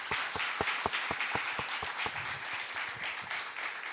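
An audience at a Venezuelan political talk applauds, a dense, steady burst of clapping from many hands with sharp individual claps up front, heard alone.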